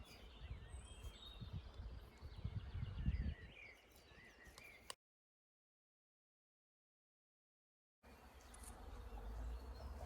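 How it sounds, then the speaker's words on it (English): Outdoors, a soft steady buzz of bees hums under distant bird chirps, then cuts to silence before the outdoor hum returns. "and hear all the busy bees."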